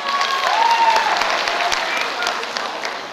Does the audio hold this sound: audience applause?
yes